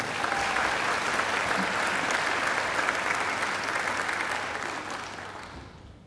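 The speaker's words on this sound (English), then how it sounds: "I think Barry deserves another great round of applause too" A graduation ceremony audience gives a long round of applause, many hands clapping in a steady, even roar that gradually thins and fades out.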